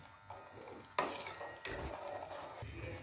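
A spoon scrapes and knocks around a pot as milk for jaggery payesh is stirred, with two sharp clanks and soft swishing, fairly quiet.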